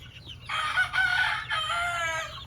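A purebred White Kelso rooster gives one loud, close crow, rising then drawn out and wavering before trailing off, with no voices.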